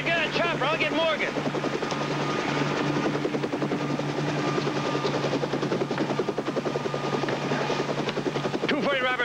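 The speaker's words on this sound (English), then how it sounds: "Morgan, the 211 suspect just escaped in a yellow Bell 47 chopper headed north" A yellow Bell 47 helicopter flies nearby, its steady rotor chop and engine buzz continuous throughout, with voices speaking over it at the start and end.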